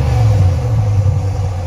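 A 2021 Ram 1500 engine revving up close: a loud, steady low rumble with a deep exhaust note held for a couple of seconds.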